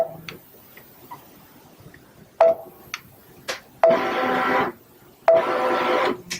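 Baby Lock Solaris sewing machine stitches in short bursts, each opening with a beep followed by a loud, close mechanical whirr of rapid stitching, with quiet ticking between.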